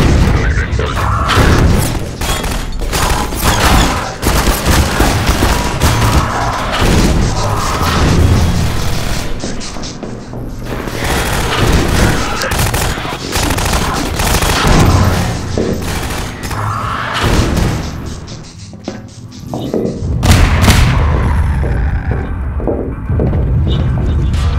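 Heavy gunfire from a mounted gun in Half-Life 2 Episode One, loud sustained bursts of rapid shots and booming impacts that roll on almost without pause and briefly dip before resuming.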